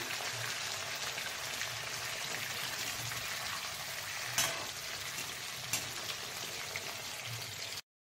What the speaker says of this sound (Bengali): প্রথমে আমি কপিটা ভেজে নেব 2-3 মিনিট